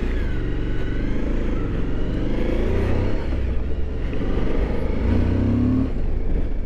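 2021 Suzuki V-Strom 1050 motorcycle engine at low speed with the clutch feathered, a loud steady rumble rising and falling slightly, with no talk.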